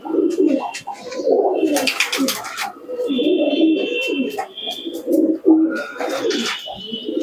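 Andhra racing pigeons cooing close by, several overlapping throaty coos in repeated rolling phrases, with some brief higher chirps and a faint tone in the background.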